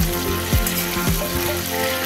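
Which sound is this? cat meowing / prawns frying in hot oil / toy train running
prawns frying in hot oil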